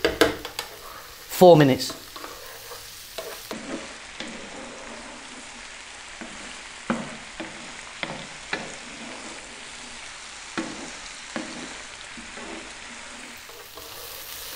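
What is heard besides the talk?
potatoes frying in a pan over medium heat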